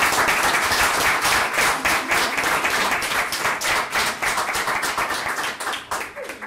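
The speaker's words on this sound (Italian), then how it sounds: "per cui già all'inizio del dibattito propongo un applauso" An audience at a national debate tournament semifinal in Italy applauds a debate team with dense, steady clapping that stays loud throughout and eases slightly toward the end; no one speaks over it.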